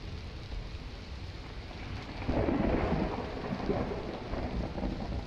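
Steady rain in the game Solitude with a low rolling thunder rumble swelling about halfway through and fading slowly, no voices.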